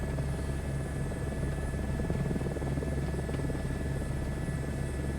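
Airbus H125 helicopter in Microsoft Flight Simulator 2024 lifts off from a confined area under heavy power, a constant low rotor thrum and turbine whine droning evenly at close range.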